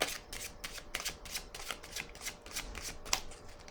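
Tarot cards shuffled by hand, a rapid, regular run of crisp riffling flicks, close and steady throughout with no voice.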